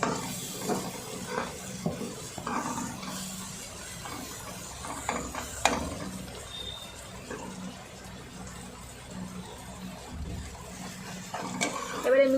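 Leftover rice and egg being stirred and fried in a pan, with a steady low sizzle under scraping, clattering spoon strokes that come in uneven bursts, close by.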